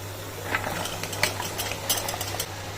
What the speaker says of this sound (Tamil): இப்போது நல்லா எல்லாத்தையும் நல்லா கலரி கொடுத்துடலாம் மசாலாவோடு நல்லா கலந்து வரட்டும்